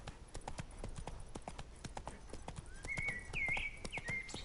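The horse Roach gallops in the video game Witcher 3, with hoofbeats in a quick, steady clip-clop rhythm close by and a brief tonal call rising near the end.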